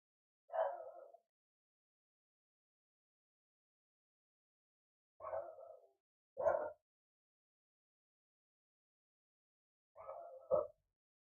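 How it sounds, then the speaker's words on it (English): A dog barks four times in short, separated bursts, fairly faint and at some distance, with near silence between the barks and no talking. "you guys can hear the sound, right? The dog is barking."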